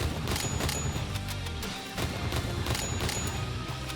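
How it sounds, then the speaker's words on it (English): A weird gun in the video game BPM Bullets Per Minute fires rapid bursts of sharp crackling shots and small popping explosions, dense and close, with a brief lull in the middle. "it seems like it fires little explosions, but that might just be the sound of the gun firing twice"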